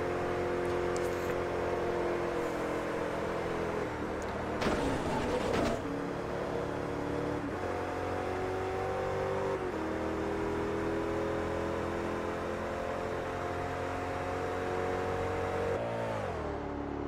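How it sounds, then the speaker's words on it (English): A racing car engine in Forza Motorsport 3 on a speedway, holding a loud, steady high drone for the whole stretch, with a brief roughness midway and a pitch shift near the end as the revs change. "it's such a good sounding engine"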